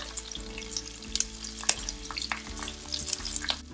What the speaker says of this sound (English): And I'm going to fry them.